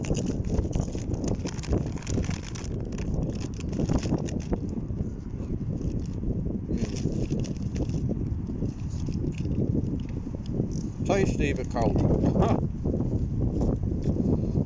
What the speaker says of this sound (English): I don't know if the phone is picking up this wind, but it is quite windy here.